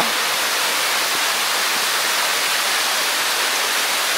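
A tall waterfall at Kookal near Kodaikanal plunges from a great height, producing a dense, constant hissing roar close by that stays unchanged and loud for the whole stretch.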